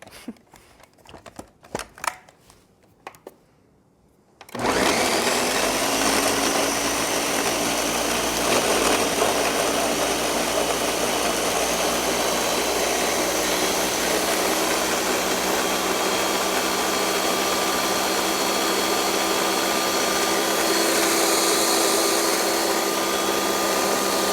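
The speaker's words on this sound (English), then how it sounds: "So we'll give this a blend. First, you have to put the lid on the right way." An Irish coffee milkshake whirring in a kitchen blender: after a few seconds of quiet handling and clicks, the motor starts abruptly into a loud, steady, high-pitched whirr that runs without pause to the end.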